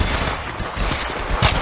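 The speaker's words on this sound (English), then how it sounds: "Shots fired and they're hitting me." Loud rapid automatic gunfire in the mobile shooter game Apex Legends Mobile, a dense continuous burst of shots with a heavier blast near the end.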